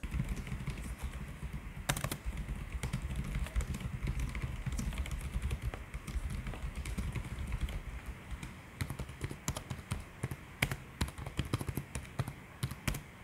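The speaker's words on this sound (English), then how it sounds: "The keyboard is a numeric clicked style keyboard with a little traveling distance, which sounds like this." Fingers type on the keyboard of an ASUS VivoBook Pro 15 N580VD laptop, a quiet, steady patter of soft clicks at close range with no talking.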